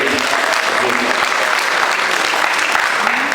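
An audience at a youth and women's group funding event breaks into loud, dense clapping that fills the whole moment, steady and close without pause.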